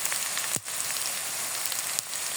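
Spice masala with salt, turmeric and chili powder frying in a pan for beef curry, a steady close crackling sizzle broken by two brief sharp knocks, with no talking.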